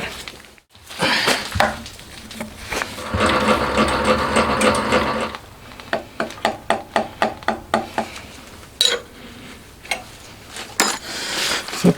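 A milling machine cuts a metal cylinder for a handmade 125cc four-cylinder, 16-valve engine, with a steady machining whine that gives way to a rapid series of regular clicking bursts, then more cutting noise, all close and loud.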